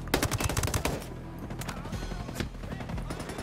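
Rapid automatic gunfire against a robot in Ghost Recon, a dense close burst of shots that thins into scattered rounds and distant battle noise.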